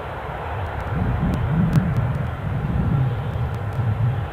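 A Jet2 airliner turning onto final approach at Newcastle airport makes a steady, low, distant engine rumble that swells slightly and holds for several seconds, with no talk over it.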